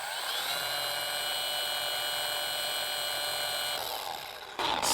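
A polisher spins out a pad wetted with pad washer solution, a steady high-pitched motor whine held for about four seconds before winding down, close and alone.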